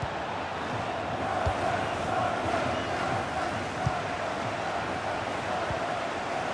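Virtual stadium crowd in the FIFA 18 football game during a Bayern Munich match, a dense steady roar of cheering and murmur filling the background, with faint thuds underneath.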